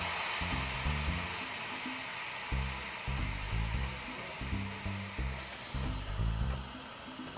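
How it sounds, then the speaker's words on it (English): Air hisses steadily out of a bicycle tire valve as the tires are deflated for packing the bike into a suitcase, a continuous close broadband rush with a rhythmic low thumping pattern underneath. "you should deflate your tires"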